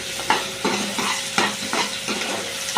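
Garlic and green chilli crackle and sizzle in hot oil in a pan, a continuous close hiss broken by small pops and the scrape of a stirring utensil.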